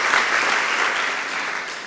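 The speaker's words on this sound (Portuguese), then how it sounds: "Dê uma salva de palmas a Jesus" Crowd applause for Jesus in a Portuguese-speaking worship gathering, a dense, even wash of clapping from many hands that fades slightly toward the end.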